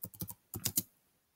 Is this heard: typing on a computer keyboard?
yes